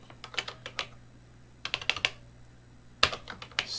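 BASIC code is typed on a Color Computer keyboard, bursts of quick, crisp key clicks separated by short pauses, close and fairly quiet.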